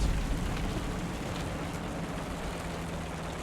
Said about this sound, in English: as I get killed with by artillery